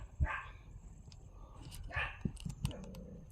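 A dog gives two distant, muffled barks a couple of seconds apart, with light clicks and background noise between them.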